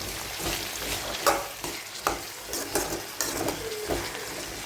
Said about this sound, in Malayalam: ആവശ്യത്തിന് ഉപ്പും 1/4 ടീസ്പൂൺ മഞ്ഞൾപ്പൊടിയും ചേർത്ത് നന്നായി ഇളക്കി കൊടുക്കാം